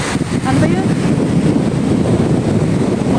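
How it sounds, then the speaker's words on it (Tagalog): Strong wind buffets the microphone on a beach, a steady loud rumble with surf-like wash underneath, and a voice speaks faintly over it. "Pero dito, hangin talaga."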